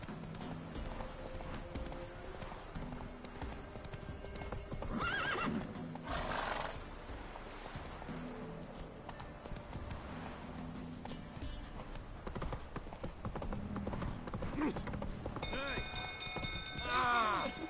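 A horse in The Witcher 3 gallops with steady clip-clop hoofbeats beneath game music and ambience, with a whinny and other game sound effects mixed in.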